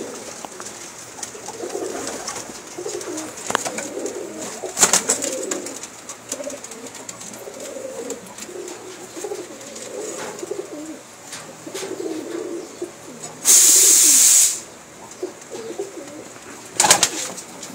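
Pakistani pigeons, a golden rare breed, coo in soft repeated low phrases throughout, fairly close, with occasional wing flaps and a brief burst of hiss partway through.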